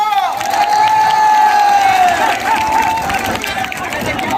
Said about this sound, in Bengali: একবার জোরদার হাততালি হোক মহাগুরুর জন্য।